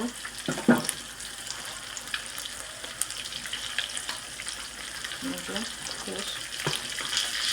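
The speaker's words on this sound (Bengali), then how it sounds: "এখন আমি যে পেঁয়াজটা ভাজা রাখছি এটা দিয়ে দিব।" Fried onions go into a pan of frying rohu fish, a close, continuous sizzle with stirring scrapes and a few soft utensil knocks under faint background voice.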